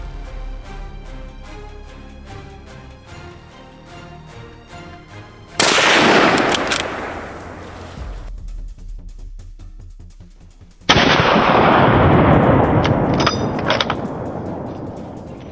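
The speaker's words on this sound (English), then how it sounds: "I held my breath, squeezed the trigger decisively, a precise shot that kicked off today's hunt." Gunfire on a wild boar hunt at a farm field: two loud, sudden bursts of blast-like roaring noise, each cutting in abruptly and sustaining for a few seconds, with quieter rumbling in between.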